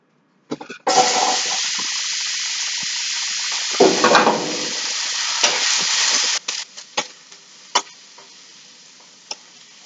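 Zucchini cubes hit a scorching hot wok with a sudden loud sizzle that holds steady, swelling as they are tossed, then drops to softer frying with scattered clinks and pops near the end.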